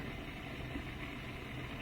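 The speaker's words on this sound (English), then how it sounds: "So that's the water swooshing around" Water swirls and circulates inside a running Bosch dishwasher, a steady low muffled rumble with a faint hiss, even and continuous throughout.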